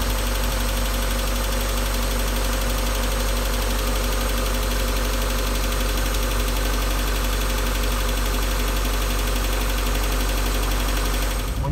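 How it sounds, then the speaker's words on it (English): A Mazda NA Miata engine idles steadily with the hood open during a coolant flush, a constant low mechanical hum and rumble holding for the whole stretch with no speech. "Turn the engine on."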